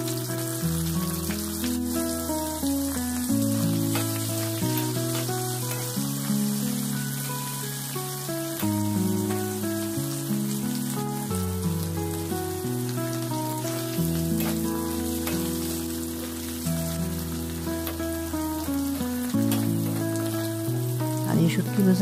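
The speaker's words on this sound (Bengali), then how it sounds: "কড়ার মধ্যে তেল দিয়ে দিলাম। শুটকিগুলো ফ্রাই করবো বন্ধুরা।" Dried fish (shutki) frying in oil in a wok, a continuous loud hiss and crackle like rain, steady throughout over background music.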